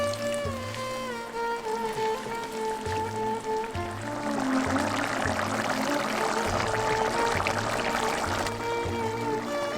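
Water poured into a pan of dhaba-style pepper chicken as it cooks, a steady splashing pour lasting several seconds and building in the middle, alongside a low humming background.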